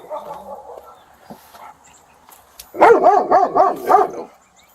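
A big dog barks behind a closed door, a quick run of five or six loud, deep barks in a rapid burst after some quieter voice-like sounds.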